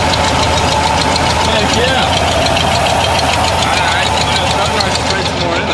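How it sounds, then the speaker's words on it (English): A project truck's engine runs steadily right after starting, with a rough, rumbling idle and an exhaust leak adding a raspy, knocking edge. It stays loud and continuous throughout while a voice briefly speaks over it. "Okay, she's starting. She is running."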